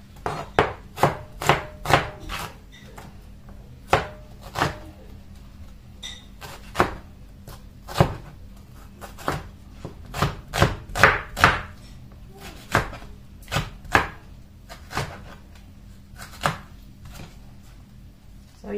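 Repeated sharp knife strikes on a cutting board, chopping at an irregular rhythm with short pauses, close by and without talking.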